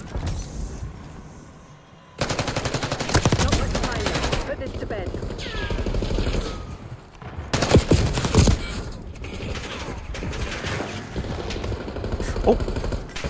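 Rapid automatic gunfire bursts in a Call of Duty: Black Ops 6 Face Off match, loud and close, recurring through the clip, with a player talking over the shooting.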